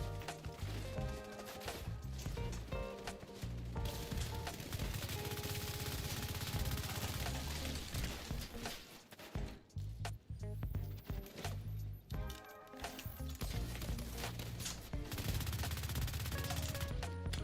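Gunfire in The Division 2 PvP, dense rapid automatic bursts and shots rattling almost continuously, loud and close with brief lulls.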